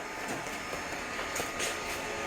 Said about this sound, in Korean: 로봇 청소기가 돌아가는데.